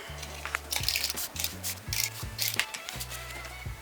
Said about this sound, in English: So we'll just get some adhesive and glue this on.